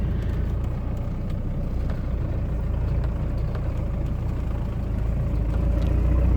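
A 4x4 engine idles in first gear, high range, at the foot of a dump hill, a steady low rumble that holds at an even level throughout with no revving.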